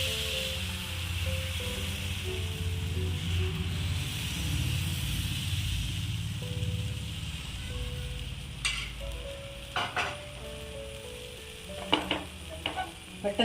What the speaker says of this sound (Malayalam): പെട്ടെന്ന് നമുക്ക് ചുട്ടെടുക്കാൻ പറ്റും ഈ ദോശ.